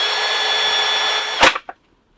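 Cordless drill driving an ice auger conversion kit, a steady high-pitched motor whir that cuts off abruptly with a clunk and a short rattle, then silence.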